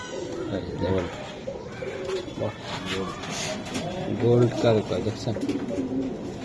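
Racing and Budapest pigeons at a wholesale pigeon market, soft repeated cooing close by beneath steady conversation between buyers and sellers.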